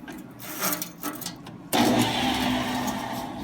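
A power tool with a 1/4-inch bit, used for cutting hub caps, starts up after some low handling noise, then holds a steady, loud spinning whine close by, with no voices.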